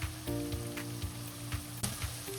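Spices sizzling in hot oil in a pan for an Andhra-style chicken curry, a steady bright crackle with small pops and a few light clinks of a utensil against the pan.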